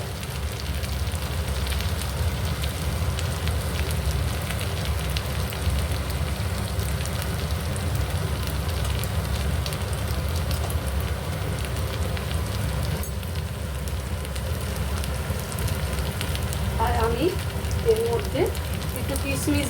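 Ghee crackling and sizzling in a pan of fish head cooked with rice, a steady close hiss like light rain that continues without a break, with faint background noises near the end.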